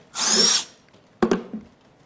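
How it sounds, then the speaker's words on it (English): A power drill bores through an apartment wall with a loud, steady whine that stops abruptly, followed by a brief clatter of the bit breaking through. "There's that moment when the drill first punctures through the wall, and there's this plunge, right?"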